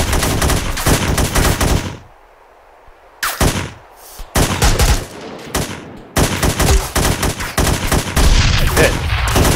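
Heavy gunfire in the ARMA 3 military game: loud, dense bursts of automatic and rapid shots with a brief quiet gap, then more sustained fire, with hardly any talk.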